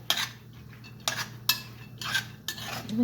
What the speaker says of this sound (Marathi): कांदा, टॅमॅटो, मूग हे सगळं तेलावर छानपैकी परतून घ्यायचं.